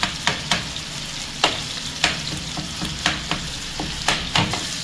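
Fish katakat pieces mixed and fried with spices over a medium flame sizzle loudly and close, with a spatula scraping and clacking in a regular stirring rhythm.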